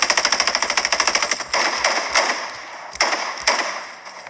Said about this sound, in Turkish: Mesela silahı ateşliyorum.